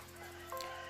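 A chicken gives a short cluck over a steady low background hum, fairly quiet and brief.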